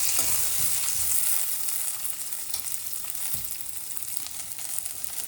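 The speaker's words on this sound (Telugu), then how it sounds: "ఆనియన్స్ బాగా వేయించుకుందాం." Onions and curry leaves fry in hot oil in a pan, with a steady, loud, close sizzle and crackle and occasional soft stirring scrapes.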